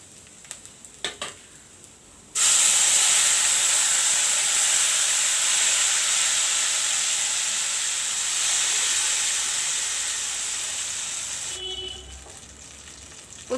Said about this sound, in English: Now I will put this tomato in the oil.